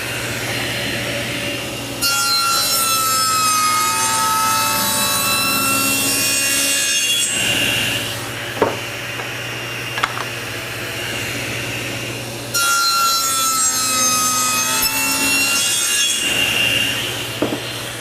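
A table saw blade fitted with a miter gauge cuts a wooden mating piece in two long rasping passes, each several seconds, separated by a quieter idle hum with a few light knocks.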